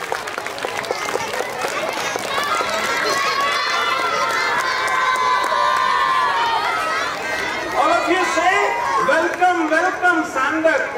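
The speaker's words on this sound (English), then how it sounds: "Please clap your hands and invite Santa Claus children." Children at a Christmas celebration clapping and cheering to welcome Santa Claus, a steady crowd of applause and excited voices with an adult speaking over the noise.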